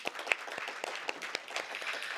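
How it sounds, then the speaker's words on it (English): Scattered applause from an audience at a bank's product launch event, fairly faint and somewhat distant, a loose patter of individual claps lasting a couple of seconds. "you deserve a round of applause"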